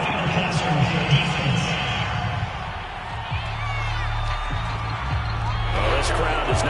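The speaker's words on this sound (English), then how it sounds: "This crowd does not like that call." Stadium crowd at a football game roaring with displeasure after a penalty flag for roughing, a dense, sustained wash of voices and whoops, with a play-by-play commentator talking over it throughout.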